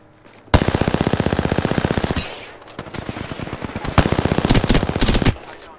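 Bursts of rapid automatic gunfire from the Mozambique, a secondary weapon in a shooter video game: a long sustained volley, a brief pause, then another loud rattling burst, close and dominant.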